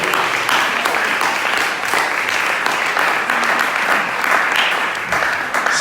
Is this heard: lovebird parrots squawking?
no